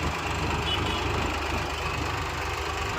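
A tractor engine runs steadily nearby, a continuous low rumbling drone with idling vibration and no other sounds over it.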